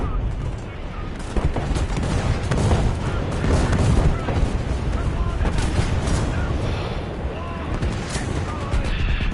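Cannon fire and explosions in War Thunder: a dense, loud barrage of booms and blasts that keeps going for the whole stretch.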